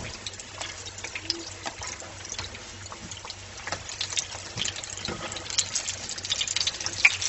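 Apple fritters cook gently in hot oil, a continuous close sizzle and crackle that grows busier and more agitated toward the end.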